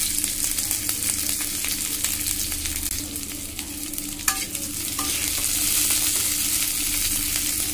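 Chopped onion and slit green chilies fry in hot oil for a Bengali dal with taro root, giving a steady close sizzle with scraping stirs and occasional spatula clicks throughout, no voices.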